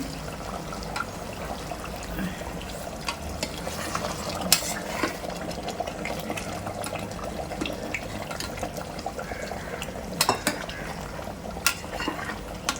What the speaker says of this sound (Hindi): अब इसमें हम डालेंगे गर्म पानी।